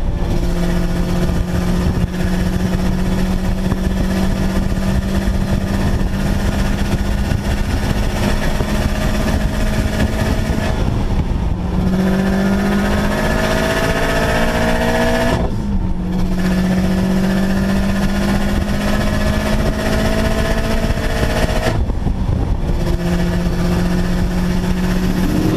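A Cosworth-built Subaru Outback engine drones loudly at steady speed, with rising revs through several gear changes marked by brief dips, carrying a dense, fluttering burble throughout.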